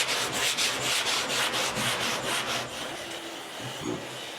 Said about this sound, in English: let's get to sanding this hood